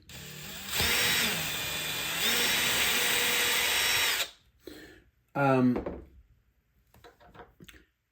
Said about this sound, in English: You won't hear me over the drill.